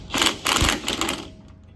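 A powerful impact gun tightens bolts in two short, rapid rattling bursts, loud and close, with a brief quieter tail.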